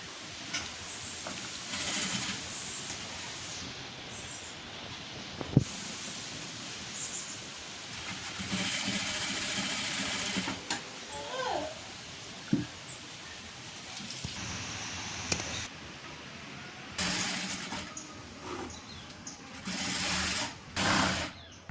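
A sewing machine stitches the sleeve of a churidar top in bursts of whirring, with pauses and soft handling noises between runs.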